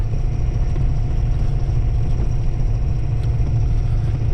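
A dump truck's engine labors up a hill in two-wheel drive, a loud, continuous low rumble heard from inside the cab, steady with slight fluctuations and no voices.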